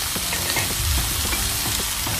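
Stir-frying with seasoning and fish sauce in a pan: steady loud sizzle with repeated scraping stirs of a utensil throughout, no talking.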